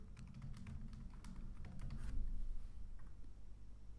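Quick, light key taps on a computer keyboard while a chat message is written, an uneven flurry of soft clicks close by over a low background hum.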